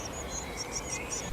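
Crickets chirp at night in a short series of high, thin trills over a soft, steady background hiss, with no voices.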